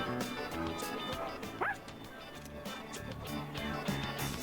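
Dog in the video game Persona 3 Reload, freshly brushed, gives a short yip amid game audio, a brief bright bark standing out over a busy background.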